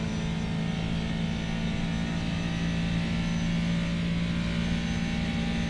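A race car, an MP4-30 in a racing video game, drones at high revs down a long straight, a steady loud sustained engine tone without gear changes or voices.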